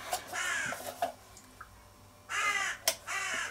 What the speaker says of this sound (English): There's a noisy crow outside.